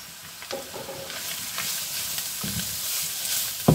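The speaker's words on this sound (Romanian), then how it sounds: "Îl punem și ăsta și îl călim împreună cu ceapa," Grated carrot and onion stir-fry together in a pan for zacuscă, a soft continuous sizzle broken by scrapes and clacks of stirring.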